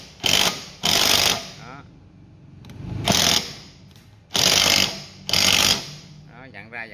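Cordless drill driving a cap-tightening tool onto a 20-liter water bottle, several loud whirring bursts of a second or so each, separated by short pauses, close by.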